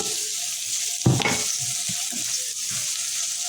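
Onions for escabeche drop into hot oil in a pan with a sudden loud sizzle, then fry with a steady crackling hiss, broken by a few stirring scrapes, close by.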